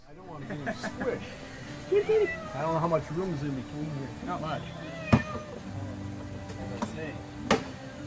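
A cat under a car hood meows several times in drawn-out, wavering cries, close by, amid quiet background noise and a couple of sharp knocks.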